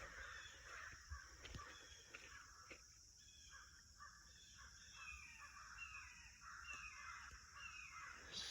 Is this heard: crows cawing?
yes